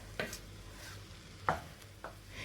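A spoon scrapes through carrot rice with ghee in a pan over low heat, three brief, soft scraping strokes spaced apart against a faint background hum.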